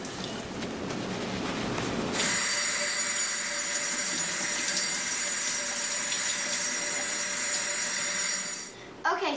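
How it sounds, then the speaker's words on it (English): Tap water runs steadily into a kitchen sink, rinsing blackberries in a colander; a dense, continuous rush starts abruptly after a brief clattering lead-in and stops near the end. "we're going to put them in the colander and go wash them out of the sink"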